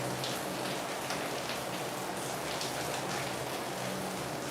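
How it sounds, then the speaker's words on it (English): Steady rain pours down continuously, a dense hiss of drops hitting surfaces, with no voices. "Definitely need the rain."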